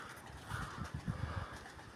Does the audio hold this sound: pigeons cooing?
yes